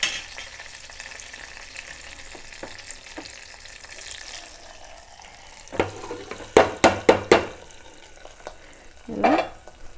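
Curry leaf tempering poured into cooked dal, a soft frying sizzle at first, then a burst of sharp sputtering pops and clatter as it is stirred through, close and fairly loud.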